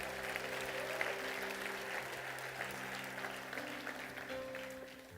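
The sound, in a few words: congregation applause in church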